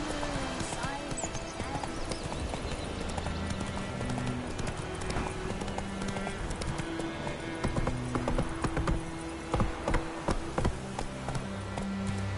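The horse Roach gallops in Witcher 3 with rapid, steady hoofbeats close by, under continual game music and talking voices, with a short whinny early on.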